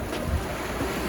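Calm, clear sea at Bonporteau beach in France on a warm, windless day, a steady soft wash of small waves close by with a faint airy hiss and no voices.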